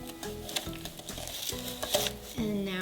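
Banana bread batter stirred in a bowl, a rhythmic series of soft scraping and clacking strokes about every half second, quiet and close, with no one speaking.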